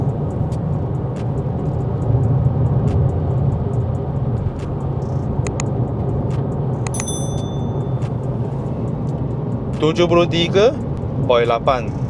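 Steady low road and engine rumble inside a seven-year-old sedan's cabin at 100 km/h, a continuous drone with someone talking briefly near the end.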